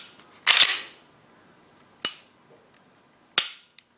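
An FNS 9mm pistol's trigger reset produces three sharp, close metallic clicks spaced unevenly, the first the loudest and longest, with no talking.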